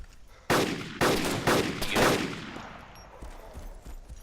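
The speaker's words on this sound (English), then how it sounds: "I'm going to use the bit where I'm shooting" Four loud, sharp bursts of gunfire from shooting in the video game DayZ, spaced about half a second apart, then a decaying tail with faint scattered clicks.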